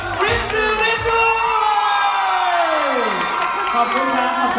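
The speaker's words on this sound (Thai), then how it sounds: "ขอเสียงปรบมือนะ" Cheering and shouting audience at a Thai stage show, loud and continuous with whoops and a falling whistle-like tone, dense crowd noise filling the whole stretch.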